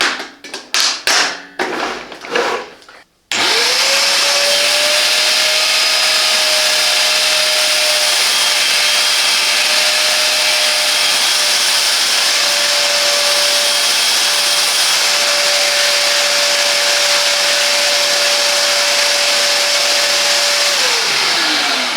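A Parkside PWD 25 C4 wet and dry vacuum cleaner starts up after a few handling knocks and runs loud and steady with a constant motor whine and airy roar for nearly twenty seconds before spinning down.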